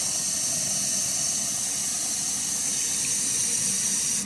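Water running steadily from an RV bathroom faucet during winterizing, a constant close hiss of flow with no talk.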